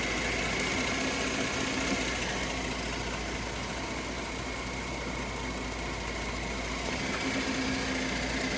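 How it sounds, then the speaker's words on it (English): A 2013 Kia Sorento with the 3.5L engine idles in park, lifted up in a workshop, giving a steady, even mechanical hum with a faint whine that holds constant throughout and has no voices over it. "And we want the engine running, but we want it in park."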